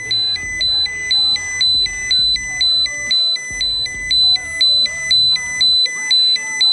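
A radiation detector's alarm chirps in a steady two-tone pattern, looping continuously and loud, with faint clicks and handling noise underneath.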